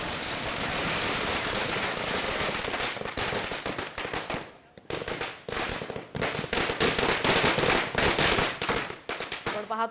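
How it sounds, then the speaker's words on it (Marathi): Firecrackers burst in rapid, dense volleys at a street celebration in Badlapur, loud crackling pops running almost continuously with a brief lull midway. "आपण पाहतोय कुठे फटाके फोडले जातात"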